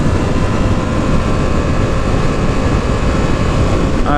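A car on cruise control along country roads, recorded on a GoPro 4 Silver with an external mic, gives a steady, loud engine and road rumble for a few seconds with no talking.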